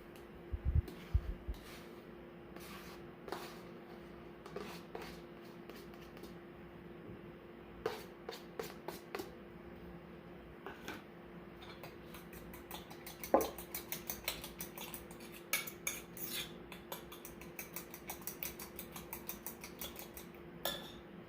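Beaten eggs and chopped green onions stirred together in a bowl, with repeated light clinks and scrapes of a utensil against the bowl, close and intermittent over a faint steady hum.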